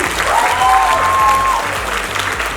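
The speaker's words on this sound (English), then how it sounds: "a big round of applause for Mariha and her team." A crowd at an evening meet-and-greet event breaks into applause, dense close clapping with a brief whistle-like tone over it, holding strong before easing slightly.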